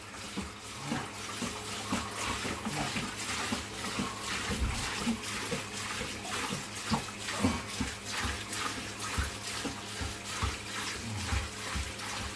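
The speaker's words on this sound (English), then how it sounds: "Pouring it on the rock to stop it from disturbing all the sand." Water from a large container poured onto rock inside a small nano aquarium so the sand below stays undisturbed; a steady, close splashing gush runs continuously without any talk.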